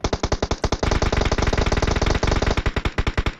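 Rapid automatic gunfire from a battle royale video game fires in loud, close, evenly spaced bursts of sharp shots with only brief gaps between strings, no speech over it.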